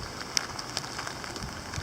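Heavy rain driven by strong wind as a cold front passes, a dense steady hiss of drops with sharp pattering hits on a nearby surface.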